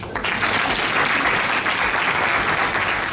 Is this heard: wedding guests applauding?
yes